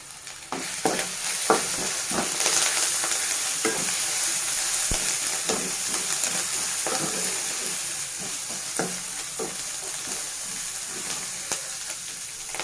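Ginger-garlic paste and turmeric frying in oil for a Telangana-style okra pulusu, a steady close sizzle running throughout with intermittent scrapes and taps of a stirring spoon, no voices.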